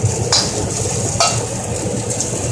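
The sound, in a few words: rice cakes frying in a little oil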